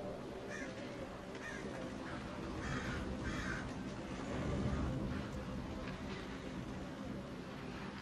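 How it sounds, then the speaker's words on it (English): Crows caw a few times in the background over a steady outdoor rumble, the calls faint and scattered across the stretch. "Birds."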